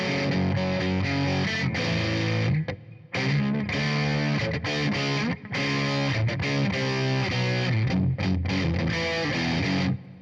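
Electric guitar played through a PG distortion pedal, loud sustained chords and riffs with a few brief gaps, no talking over it.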